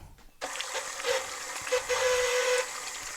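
A stand mixer with its paddle mashing potatoes starts up abruptly and then runs with a steady mechanical whir and a whining tone, loud and close.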